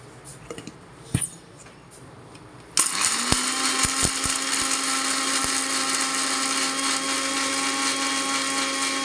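A kitchen mixer grinder jar grinding green chillies with salt starts after a few quiet seconds of small knocks, then runs as a loud, continuous high-pitched whir that holds steady to the end.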